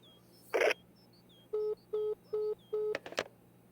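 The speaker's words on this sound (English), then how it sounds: "That was a repeated phone call." A short burst of noise, then four evenly spaced beeping telephone tones from a phone call in the game My Winter Car, followed by a couple of brief clicks and knocks.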